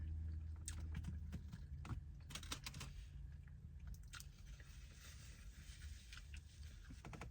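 Someone bites and chews a taco up close, with soft crunchy bites and wet chewing in an irregular rhythm over a low background rumble, and no talking.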